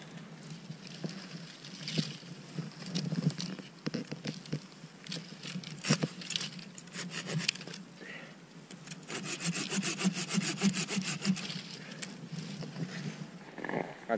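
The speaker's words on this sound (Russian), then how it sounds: "Сейчас возьмем нашу ножовочку." A hand saw cuts through a rowan branch at a winter camp in the woods. Rhythmic back-and-forth rasping strokes are heard up close. There is a short pause midway before steady, faster sawing resumes.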